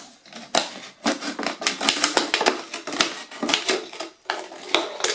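Scissors snipping through a plastic bottle to cut it in half for a craft project, a close series of sharp, crackling cuts and crinkles in quick irregular bursts.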